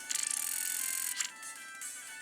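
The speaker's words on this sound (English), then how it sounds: "my X transceiver is ringing" An Xtransceiver ringing in Pokemon Black, a quiet, high electronic trill that pulses quickly, pauses, then chimes again more softly.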